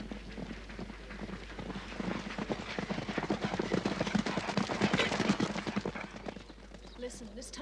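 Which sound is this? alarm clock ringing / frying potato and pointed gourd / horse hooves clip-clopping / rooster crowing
horse hooves clip-clopping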